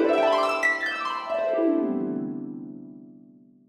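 A sampled Synchron Harp runs through a yo mode scale in quick sweeping glissandi up and down, the plucked strings overlapping and then ringing out into a steady fade.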